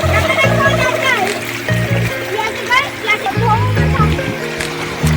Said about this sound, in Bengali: শাকগুলোকে ভালো করে ধুয়ে নে।